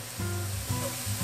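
Vegetarian ingredients pan-frying for a vegan dish, a steady soft sizzle with low rhythmic scraping as they are turned in the pan, close and fairly quiet.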